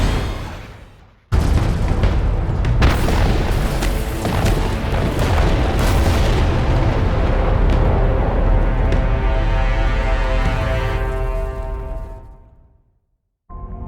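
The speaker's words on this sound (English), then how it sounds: "Missile launch detected." Missile launch and explosions in a Homeworld: Deserts of Kharak cutscene: a sudden loud roaring boom that rumbles on for about ten seconds with scattered cracks, then fades to silence before a brief final burst.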